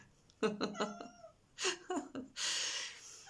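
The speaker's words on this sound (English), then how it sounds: "there's my cat coming through the cat flap talking to me" A cat meows several times in short, chirpy calls, close by, while coming through a cat flap, followed by a brief rustling flap-like sound.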